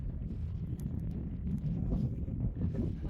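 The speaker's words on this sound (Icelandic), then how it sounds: "Það er sko mjög hlýr vindur og mjög heitt hérna." Warm wind blows outdoors near a mountain, heard as a steady, low, buffeting rumble with gusty swells and light rustling, moderately faint and without talking.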